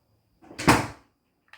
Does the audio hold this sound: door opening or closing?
yes